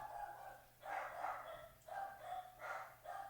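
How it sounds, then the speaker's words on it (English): Several dogs bark in a rough rhythm, about five fairly muffled, moderately distant barks with short pauses between them and no talking. "Dogs are going crazy up in here."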